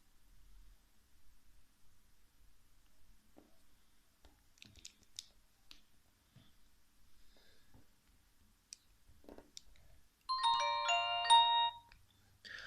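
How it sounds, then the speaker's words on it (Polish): A brief chiming jingle plays once as a mobile phone with a 2.8-inch display and dual SIM slots is switched on. It sounds near and clear after a stretch of quiet handling noise. "Teraz sobie spróbujemy odpalić nasz telefon i sprawdzimy jego funkcję."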